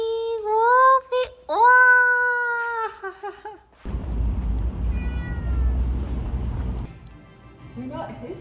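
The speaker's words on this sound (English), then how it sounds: "Wolfie is meeting our friend's cat Momo for the first time" A cat gives several drawn-out, close meows in the first few seconds, followed by a burst of rustling, handling noise and a few faint mewing sounds. A person is also heard speaking.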